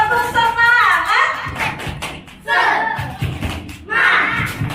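Children perform a rhythmic spirit clap at an Isra Miraj celebration in a musholla, sharp patterned claps in quick sets under loud shouted chanting voices.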